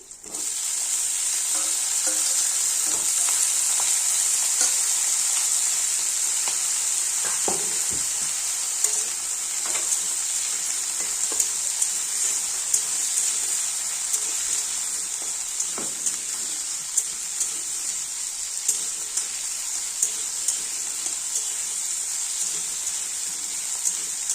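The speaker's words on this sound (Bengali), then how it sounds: "তো পেঁয়াজ ভাজা ভাজা হয়ে গেছে, এবার দিয়ে দেবো আলু।" Potatoes added to onions frying in oil in a pan sizzle steadily and loudly, a dense bright hiss that continues throughout with occasional stirring clinks and small pops.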